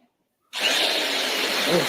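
A power drill used on hair whirs up abruptly after a half second of silence, then holds a loud, steady high-pitched buzz until the end.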